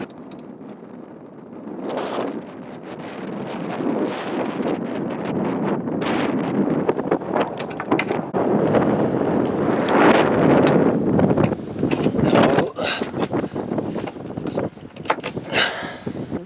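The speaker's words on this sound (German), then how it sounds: "Und es fängt gerade ein bisschen an zu winden." Gusty Bora wind on the sailing yacht Astrea in Croatia's Kornati Islands, roaring and buffeting the microphone in rising and falling surges, with brief sharp rattles and knocks near the end.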